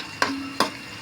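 Onion and garlic sautéing in a pan, heard as two short stirring scrapes about a third of a second apart over a low, steady sizzle.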